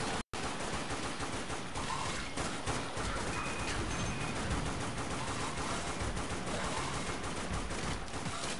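Continuous rapid gunfire from the Dead Nation video game, a dense, steady rattle of shots that carries loudly through the whole stretch after a brief dropout at the start, with no voices.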